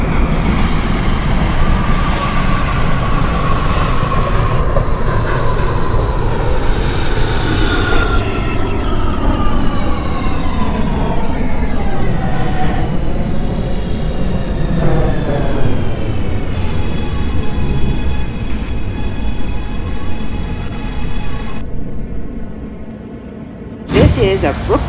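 R211T C subway train on a Brooklyn-bound local run in the OpenBVE simulator, with a loud, steady rumble and whine throughout, rising and falling tones from the motors, and a brief sharp burst near the end.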